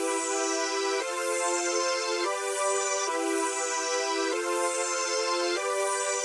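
Layered synth chords played in FL Studio for a trap beat, with five sustained chord changes about every 1.2 seconds. Each chord is bright and rich, with a sweeping filter shimmer at the top, and plays alone with no talk.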